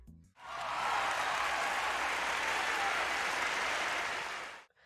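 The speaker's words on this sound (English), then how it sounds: "The sequence ends to a crowd of pre-recorded cheers as the puppet sinks into the corner, crying." Pre-recorded crowd cheers from a puppet show in a film: a dense, sustained wall of cheering and applause that rises quickly, holds steady at full strength for about four seconds, then cuts off abruptly.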